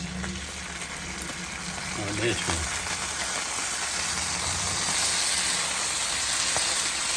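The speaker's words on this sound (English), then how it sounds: "I'm just gonna pour my teriyaki sauce all over like this" Teriyaki sauce poured over Spam slices frying in a pan for Spam musubi, a steady close sizzle with liquid splashing that swells as the sauce hits, while someone talks over it.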